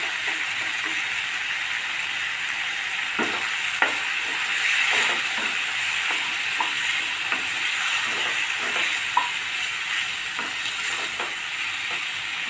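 Partly cooked mutton being stir-fried in a pan for kosha, a steady hissing sizzle with a wet bubbling texture and regular scraping strokes of a spatula spaced through the whole stretch.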